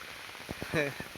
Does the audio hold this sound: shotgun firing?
no